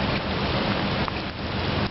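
Rain falls steadily over a flooded park, a dense, even hiss of drops close by with no break and no voices, loud and continuous for the whole moment.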